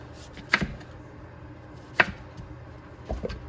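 A knife quarters potatoes on a cutting board in three separate cuts, quiet and close, with short pauses between.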